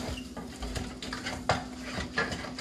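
Sautéing in a pan while preparing coconut crusted fish: soft clinks of utensil against pan and stirring scrapes over a faint sizzle, quiet and close with no talking.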